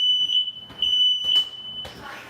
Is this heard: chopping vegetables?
no